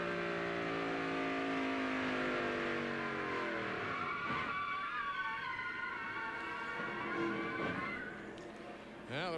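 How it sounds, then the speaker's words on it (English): A NASCAR race truck at Homestead in the 1996 Florida Dodge Dealers 400 runs at high revs, engine whine falling as tires squeal and skid, then roaring back up before dropping off abruptly, with a faint voice under it. "Homestead, Florida, as we take a look at the Mike Bliss truck, and we happened to be riding along with him earlier as he had his problems."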